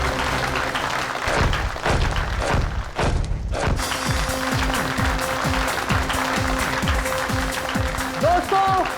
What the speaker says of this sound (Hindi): दोस्तों, जोरदार तालियां हो जाए फैजल के लिए।